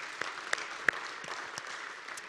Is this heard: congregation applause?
yes